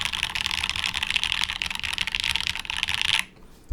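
Typing on a Type-K prototype mechanical keyboard: rapid, close, crisp clacking keystrokes in a dense run that stops abruptly just before the end.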